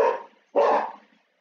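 A dog barks twice close by, a short loud bark followed by a longer, fuller one after a brief pause, with no talking.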